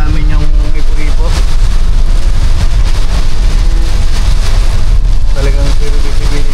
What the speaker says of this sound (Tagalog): talagang palupit ng palupit yung bira ng ulan at hangin